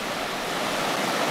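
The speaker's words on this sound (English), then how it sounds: "due to heavy rains, the river is completely swollen," Rain-swollen river with rapids in the Wissahickon Valley, a loud, steady broadband rush of churning water, close and continuous with no pauses.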